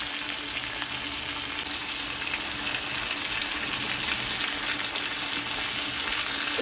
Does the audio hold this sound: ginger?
yes